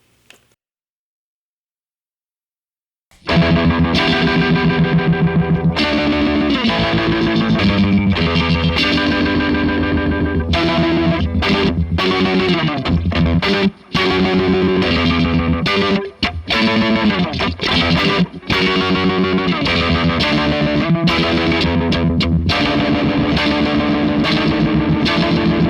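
Electric guitar run through an effects pedal set to its maximum speed, giving a loud, continuous, heavily modulated and distorted tone with fast wobbling, after about three seconds of near silence.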